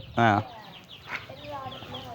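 Asil cross chickens cluck on a small farm. One loud, close cluck stands out, followed by fainter scattered clucks against a quiet outdoor background.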